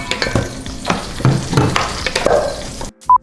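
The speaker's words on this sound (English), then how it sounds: "I'll start mixing in the ricotta." Plant-based ricotta is worked by hand into chopped zucchini, giving wet, squelching stirring and mashing sounds in irregular bursts close up, followed by a brief pause and a short tonal beep.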